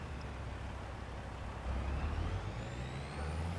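Steady low engine drone of a truck in Farming Simulator 25 with a faint rising whine, getting slightly louder partway through; no talking.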